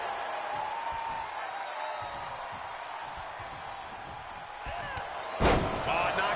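A wrestler's splash off the middle rope in WWE 2K25 hits the mat with one heavy, sudden slam near the end, over a steady arena crowd murmur and ongoing commentary.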